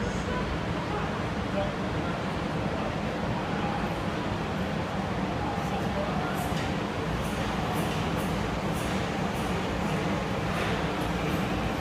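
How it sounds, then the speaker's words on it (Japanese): A Nagoya Municipal Subway Meijo Line 2000-series train rumbles steadily into a station under a continuous low roar, with faint clicks and a Japanese last-train announcement in the background. "水本運動場東行き最終電車が参ります"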